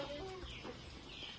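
Soft quacking from ducks nearby, with a few short calls over a quiet outdoor background.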